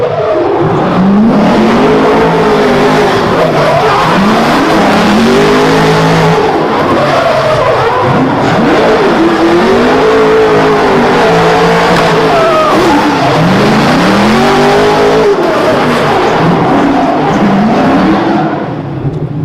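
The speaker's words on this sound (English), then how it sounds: "Jay's just doing a burnout, aren't you?" A 700hp 7.4-litre Toyota AE86 drift car doing a burnout revs hard in repeated rising and falling surges while tires squeal continuously, very loud and close, without any talking.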